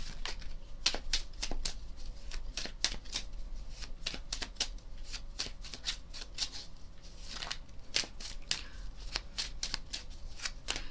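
Tarot cards shuffled by hand on a tabletop beside a piece of quartz, giving a steady run of crisp riffling bursts and flicks, close and fairly quiet, with no talking.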